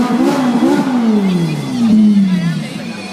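Car engines rev hard and loudly at the Gumball 3000 rally in London, with rising and falling roaring sweeps up close and crowd voices mixed underneath.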